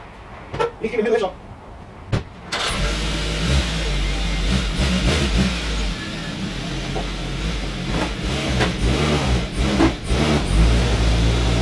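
A van engine turns over and catches, then runs loudly with revving surges, while voices talk intermittently near the start.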